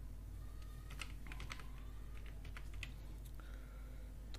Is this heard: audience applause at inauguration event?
no